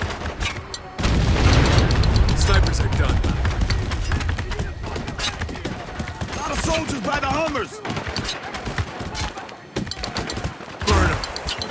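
Heavy booming mortar fire and explosions mixed with gunshots in Spec Ops: The Line, loud and dense at first, then scattered impacts, with voices shouting over the combat.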